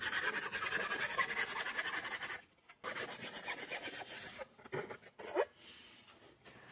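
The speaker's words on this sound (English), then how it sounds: "cutting metal leaves a raw edge that can easily cut your hands, so I like to deburr all my parts after cutting." A deburring tool scraping along the raw, freshly cut edges of aluminum sheet for a curvy seat side: continuous close rasping strokes for a few seconds, a brief pause, then shorter uneven scraping passes.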